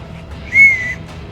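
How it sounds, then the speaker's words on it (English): A short, shrill blast from a small signalling whistle worn on the neck, heard once, close and loud, lasting about half a second. "the whistle."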